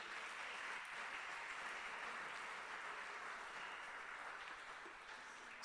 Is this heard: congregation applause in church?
yes